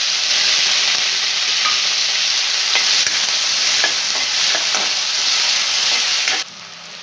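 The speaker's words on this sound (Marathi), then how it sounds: "आता हे त्याच्यामध्ये कांदा घ्यायचा आहे तो पण छान परतून घ्यायचा आहे" Onion sautéing and being stirred in a cumin tempering for a mixed Bhogi vegetable dish, a steady close sizzle with scraping stir strokes throughout, dropping off sharply near the end.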